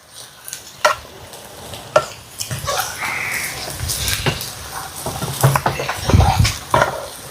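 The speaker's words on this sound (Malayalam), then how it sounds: "നമുക്കിത് നന്നായിട്ട് ഇളക്കി കൊടുക്കാം" Chicken coated in masala is stirred in a pan, with a spoon scraping and clattering in irregular strokes over a soft, steady sizzle, close by and moderately loud.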